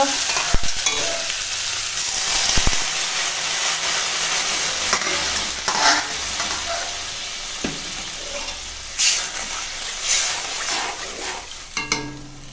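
A soybean and egg curry boils in a pan after water has been added, giving a steady bubbling sizzle with scattered stirring scrapes and a few sharp clinks, loud and close throughout.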